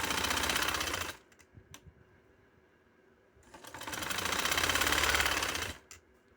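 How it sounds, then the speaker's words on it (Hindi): Sewing machine running a line of top-stitching along a dupatta, a loud, close, rapid mechanical whir in two bursts of a second or more, separated by a quieter pause with light clicks, and no talking. "ये मैं ऊपर वाली सिलाई लगाती हूँ।"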